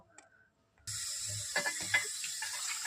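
Tap water runs steadily into a basin as lemon-marinated chicken is washed, starting after a short quiet moment, with hands splashing and rubbing in the stream.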